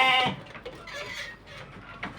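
Sheep on a sheep farm bleat in a loud, nasal call at the start, with fainter bleats and animal noises scattered through the rest of the short stretch.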